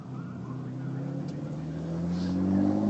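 A vintage Frazer Nash racing car on a recreation lap at a historic racing celebration, its engine droning steadily and swelling slightly as it draws nearer, with a voice talking over it.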